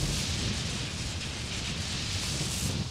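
Explosive blast and shot from the video game ARK during wyvern combat, a dense, roaring burst of noise that fills the whole clip without clear breaks, moderately loud and with no speech over it.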